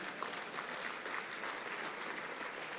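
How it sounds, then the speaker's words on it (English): Audience applause at an annual trade association dinner, a soft, distant patter of clapping that stays even and fairly faint throughout. "We can clap for that, yeah."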